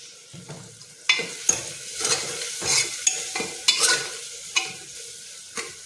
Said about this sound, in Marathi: हे आपल्याला व्यवस्थित आता तेलावर परतायचा आहे मसाला।